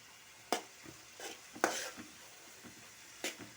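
Ginger garlic paste frying in a pan for a mushroom curry: quiet steady sizzling broken by four or five distinct spatula scrapes and clinks, close by, with no talking.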